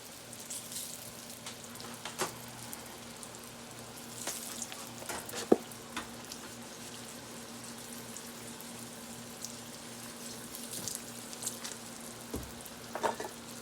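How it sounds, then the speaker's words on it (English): Eggplant frying in a pan, a quiet steady sizzle with small pops and stirring clicks close by and no talking. "So in a minute we will have some fried eggplant."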